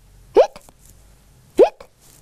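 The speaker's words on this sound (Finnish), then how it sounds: "Sitten tiikerille tuli hikka." A storyteller reading a Finnish children's picture book voices a tiger's hiccups, two sharp, loud vocal hics about a second apart with quiet gaps between.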